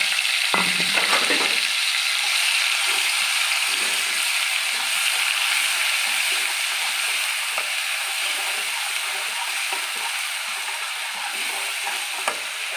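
Ginger, garlic and green chilli hit hot oil left from frying fish, a sharp burst of crackle at the start settling into a steady loud sizzle with faint stirring clicks, no voices.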